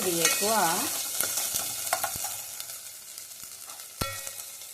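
Ginger garlic paste sizzles in a pan, a soft steady hiss under scattered clicks and taps of a spoon against the pan, with a brief burst of louder activity at the start and a sharp knock near the end.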